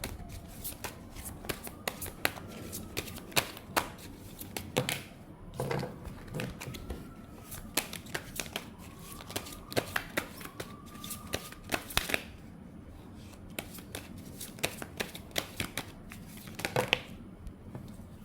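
A deck of tarot cards is shuffled repeatedly up close, giving a steady run of crisp riffling and snapping card sounds with no talking.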